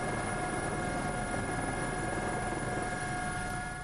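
A helicopter on an archaeology expedition in Lapland drones steadily with a dense, loud rotor and turbine roar, as if heard from inside the cabin, unbroken for several seconds.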